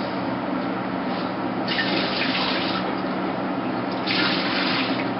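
Water pouring steadily out of a cooking pot while making lamb drob, a continuous splashing gush that swells louder a couple of times.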